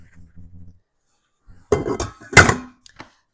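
Chicken bones drop into a pot with a couple of close, hard clattering knocks after a soft, low rumble, followed by a small final clink.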